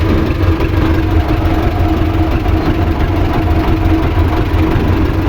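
Tractor engine running steadily while towing a Sipma 224 baler that has lost a wheel, travelling on one wheel; a loud, continuous low rumble with constant vibration and no pauses.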